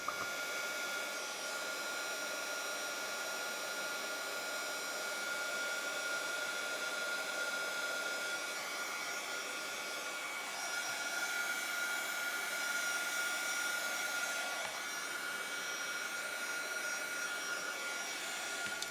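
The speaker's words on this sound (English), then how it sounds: "once my heat tool is extremely hot," A heat embossing tool melting embossing powder on a card gives a steady, close, loud blowing whir, like a hair dryer, running continuously throughout with no speech.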